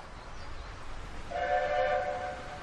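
A train passing an open crossing on a Welsh railway, with a steady low rumble of wheels and a horn or whistle sounding clearly partway through over the continuing roll.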